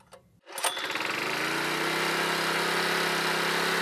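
An Alkon water pump engine pumping seawater gives a short rattle, then starts up and settles into a steady, loud, buzzing drone close by. It runs alone for the rest of the clip.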